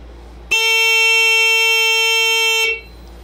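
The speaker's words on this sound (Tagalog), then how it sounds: "So yun po yung tunog ng built-in buzzer niya" A scoreboard's built-in buzzer sounds once, loud and steady, holding a flat, harsh electronic tone for about two seconds before cutting off into quiet.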